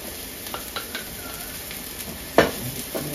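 Chopped garlic and onion sizzle in a pan with a constant hiss, while a utensil taps and scrapes a few times and one louder clatter stands out near the end.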